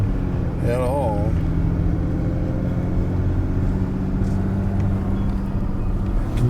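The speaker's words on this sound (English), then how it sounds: "Now, hear a little bit of the diesel." A GMC Denali Ultimate's 3.0L Duramax inline diesel hums low and steady, quiet and even, with a brief high chirp near the start and faint background noise.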